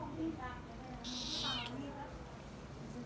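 A cat gives one clear, close meow lasting about half a second, with soft background voices and room noise around it.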